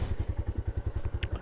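Motorcycle engine chugs with a steady, rapid rhythmic pulse on a scenic mountain route in Sikkim, loud and close, with a brief high click near the end.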